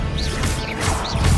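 Expelliarmus disarming spell cast in Hogwarts Legacy, a loud, busy burst of magical whooshes and crashing impacts with rising swish tones, dense and continuous through the short moment.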